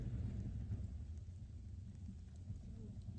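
A thunderstorm in the Roblox game, heard as a heavy, continuous low rumble with steady rain-like noise over it. It stays loud and dense throughout, with no clear breaks.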